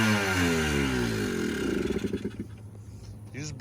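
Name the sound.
Yamaha Blaster four-wheeler engine revving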